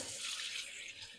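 A kitchen tap runs while something is rinsed off in the sink, a soft, steady splashing hiss that stays constant and fairly quiet, with no one talking.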